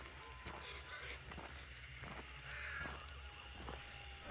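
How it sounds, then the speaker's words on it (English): Crows caw repeatedly in a video game, harsh calls rising over a steady ambient background of game noise and faint footsteps, fairly close and spaced irregularly through the moment. "Oh my goodness, those birds."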